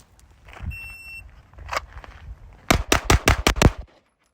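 A handgun fitted with a Holosun SCRS micro optic fires six rapid, loud shots close by, preceded by a beep and faint shuffling movement.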